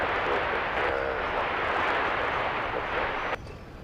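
An airliner takes off from runway 13 left at Dallas Love Field, its engines a loud, steady roar heard from outside that holds throughout, then drops off sharply near the end.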